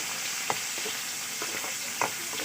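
Onions frying in a kadai, a steady close hiss of sizzling oil with a few sharp crackles and stirring scrapes, no voices.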